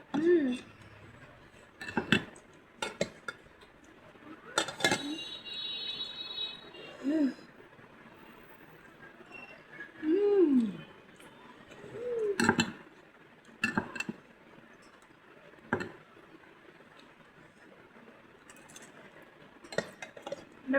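Plates and cutlery clink in scattered, light taps while an afternoon snack is served onto a plate, with intermittent voices and background chatter in between.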